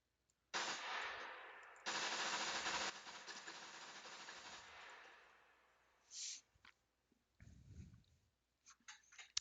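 Automatic gunfire in the SCUM video game, loud rattling bursts of rapid shots fired at a tree during a recoil test, a long spray followed by shorter, sparser bursts with quiet gaps between them.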